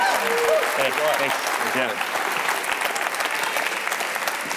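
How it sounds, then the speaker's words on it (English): Audience applause fills a startup networking event venue, a dense, steady wash of clapping throughout with a few cheers, while a person speaks briefly over it. "can you please give a massive startup grind applause?"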